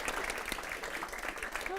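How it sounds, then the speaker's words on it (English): An audience at a Toronto accessibility meetup claps in a steady, dense patter of applause, moderately distant, with voices speaking over it. "let's give a round of applause"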